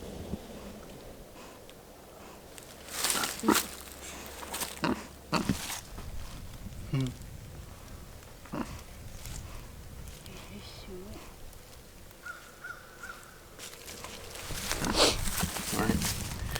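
A pet pig grunts in short, low bursts scattered among handling noises and bits of talk from people nearby, the grunts close but fairly quiet.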